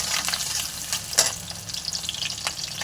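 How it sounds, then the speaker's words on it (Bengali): Chopped garlic and ginger sizzle in hot oil, a continuous crackling fry broken by sharp spits and the scrape of stirring, close and fairly loud with no voices. "তেল গরম হয়ে গেছে, এবার রসুন কুচি দিয়ে দেবে। লাল লাল করে রসুনগুলো ভেজে নেবে।"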